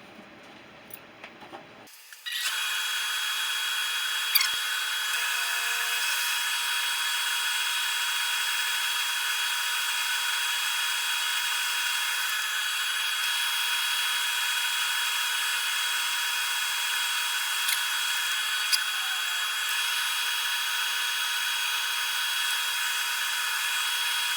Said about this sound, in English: little bit of sanding on the outside.